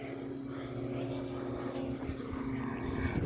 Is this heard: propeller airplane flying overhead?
yes